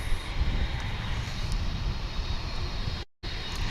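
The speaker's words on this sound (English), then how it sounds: "we've got a Dreamliner, which is going to be making its way to Phoenix" A Boeing Dreamliner bound for Phoenix gives off a steady, moderately loud jet engine roar, broad and even across the whole stretch, broken once by a brief dropout near the end.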